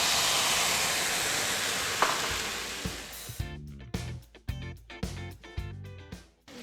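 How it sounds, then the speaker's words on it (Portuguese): Cognac hits a pan of sautéed onions with a loud, broad sizzle that gradually settles, followed by a run of sharp clinks and scrapes of a utensil stirring in the pan. "Eu vou colocar aqui o conhaque"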